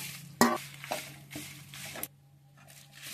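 Chana dal, urad dal, coriander seeds and dried red chilies dry-roast in a pan while being stirred, giving several distinct scraping, rattling strokes with a sharp clink at the start, soft and close, no talking.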